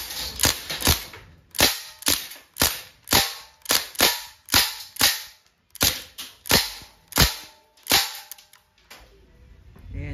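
A Crosman DPMS airgun rifle fires on full auto in rapid sharp cracking bursts, roughly a dozen loud shots spaced unevenly across the span, close and with no talking.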